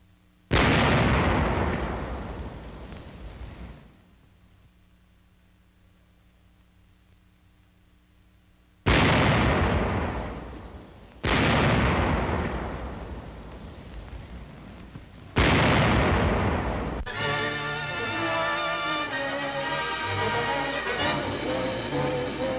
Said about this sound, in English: When volunteers were called for to test fire the 88s, an entire battalion asked for the chance.